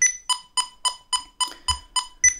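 A Donner DT-4 clip-on chromatic tuner's metronome clicks out a steady eighth-note pulse, about nine sharp, bright electronic ticks in quick even succession, alone and fairly faint.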